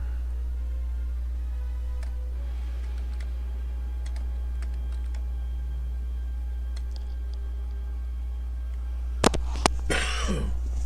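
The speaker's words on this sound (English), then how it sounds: "Still got a little bit of a cold, so forgive the occasional cough, please." A painter recovering from a cold gives a short cough, a sharp burst near the end, followed by a brief throat sound close to the microphone over a steady low hum.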